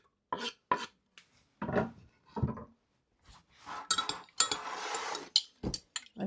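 Sliced onions drop and scrape into a cooking pot, with short clinks and rattles of metal and utensils, sporadic and close, no talking.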